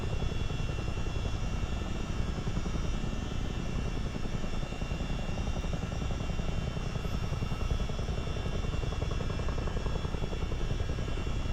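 A CH-47 Chinook helicopter flies low under visual flight rules, its engines and twin rotors making a loud, continuous, dense roar with a fast rotor chop, heard from inside with no voices.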